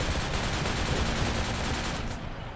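Dense, sustained gunfire in the military video game Project Reality, rapid overlapping shots forming a loud continuous barrage with no talk over it.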